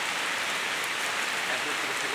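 Steady rain falls outdoors in a broad, even hiss with no pauses, moderately loud and close, and no voices break through it.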